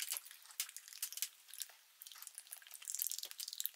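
A small flask of superglue being shaken by hand, quiet irregular clicks, rattles and liquid sloshes in quick bursts, close up with silence between.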